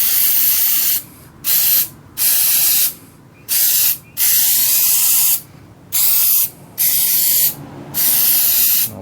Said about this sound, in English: spray it, this stuff to get the coolant out